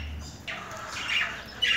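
Pet budgerigars give a few harsh squawks and calls at moderate distance over a quiet room, with a short gap before a louder final burst.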